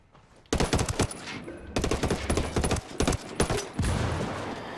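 Rapid automatic gunfire in the video game Ghost Recon Wildlands, loud bursts of fast shots over several seconds broken by brief pauses, with no voices.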